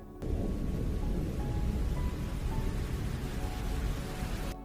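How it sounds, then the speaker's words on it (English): Steady rain with thunder, a loud, dense wash of falling water and low rumble that holds evenly from start to finish with no voices. "All there is now is rain."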